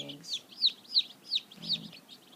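Black Copper Marans chickens clucking near a wooded coop, a series of five or six rhythmic, fairly close clucks with a faint low voice beneath.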